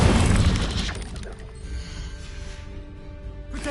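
The Incendio fire spell in Hogwarts Legacy bursts out with a loud whooshing blast that roars and fades into a crackling tail, before a second burst starts at the end.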